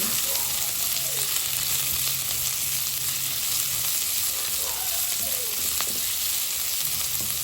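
Food sautés in a hot pan in a home kitchen, giving off a loud, continuous sizzle and crackle that never lets up. No voices are heard.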